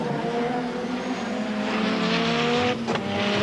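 A 1990 BTCC race car pulls away out of the pits after a stop, its engine droning loud and close with rising tones and a brief tire-chirp burst near the end.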